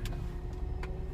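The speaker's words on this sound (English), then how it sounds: "My car will go into gear." A car with its engine running steadily at low pitch, a faint hum and rumble with a few soft clicks as it goes into gear.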